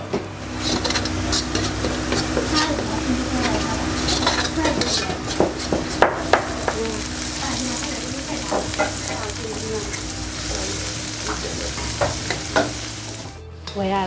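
Food frying in a restaurant pan, a constant loud sizzle with frequent metal clanks and scrapes of a utensil stirring, close up and busy.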